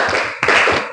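Ninth-grade classroom students doing a clap pattern: a sharp, loud hand clap lands near the middle of a short stretch, close and crisp, amid faint room noise.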